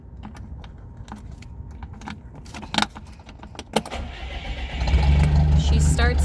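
Clicks and rattles give way to a boat's inboard engine starting, a marine engine with about 1,450 hours that catches and settles into a loud, steady low rumble near the end.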